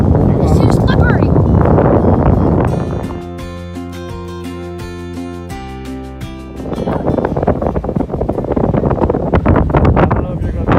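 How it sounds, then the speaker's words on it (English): Strong wind on a pier at Charleston buffets the microphone with loud, roaring rumbles at the start and end, easing briefly in the middle while a tonal, music-like sound plays. "I don't know if you're going to hear this because of the wind"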